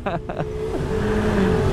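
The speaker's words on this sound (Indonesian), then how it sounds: "ada kontainer yang nggak tahu tuh kenapa kok ngegas" A container truck in an evening traffic jam in the KIIC Karawang industrial area revs its engine without moving, a low steady diesel drone with rising engine tones, heard close under road noise.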